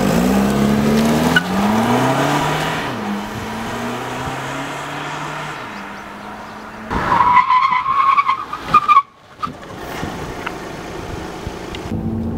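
A VW Golf 2.0 TDI accelerates hard and then brakes to an emergency stop, the engine note climbing through gears and tires letting out a squeal, with a sharp skid near the end followed by quieter idling.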